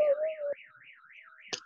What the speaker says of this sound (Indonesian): Alarm, kereta.